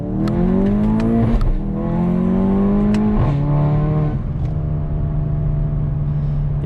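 A car with an APR Stage 2 tune revving hard with traction control off in sport mode, loud close engine roar rising and falling in sweeping pitch, punctuated by sharp exhaust pops and bangs.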